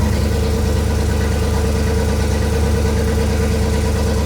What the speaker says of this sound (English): we finally got this engine running right